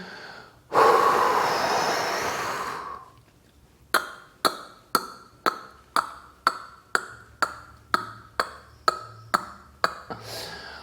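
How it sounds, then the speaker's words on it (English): A freediver practicing Frenzel equalization lets out one long, forceful exhale close to the mic, then after a pause makes a steady series of about a dozen short, sharp throat and nasal clicks at roughly half-second intervals. "So let's say I'm gonna do exhale and K equalization."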